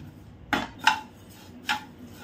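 A utensil scrapes and clinks against a pan while roasted poha for papad is taken out, giving three short metallic scrapes up close over a quiet background.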